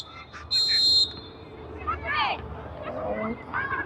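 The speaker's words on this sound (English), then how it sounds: "And the referee double blows his whistle here." A referee's whistle at a youth U14 soccer match gives one sharp, loud tonal blast near the start, with weaker whistle-like tones following over crowd chatter and speech on the field.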